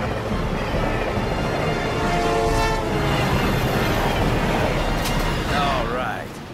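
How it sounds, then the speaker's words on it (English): A video game train rumbles past with rhythmic clatter and a brief horn blast near the end, loud and close, over a dense mechanical roar. "There's another train coming in the opposite direction."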